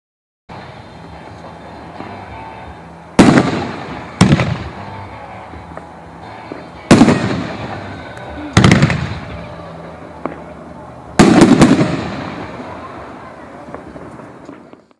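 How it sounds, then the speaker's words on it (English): Whacky Tobacky firework tube rack firing big willow shots with pink glitter: five sharp, loud launch thumps with crackling tails, irregularly spaced over a steady background hiss. "Whacky Tobacky is the real deal, firing big shots of Willow with pink glittering pistol"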